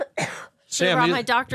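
A single short, harsh cough or throat clear comes close to a hot studio microphone, followed at once by someone speaking.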